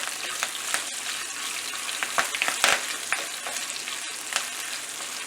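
Raisins, ginger and curry leaves crackle and sizzle in hot oil, with a steady frying hiss broken by scattered sharp pops and a few scraping stirs near the middle, no voices.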